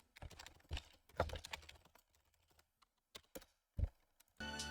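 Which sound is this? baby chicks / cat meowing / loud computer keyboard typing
loud computer keyboard typing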